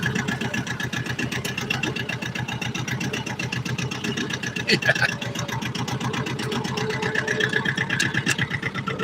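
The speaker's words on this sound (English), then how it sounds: "I probably shouldn't be trying to cram the tractor through all this stuff" A tractor's steady, rumbling engine runs continuously with a fast, chugging pulse, close by and fairly loud, with a brief clunk midway.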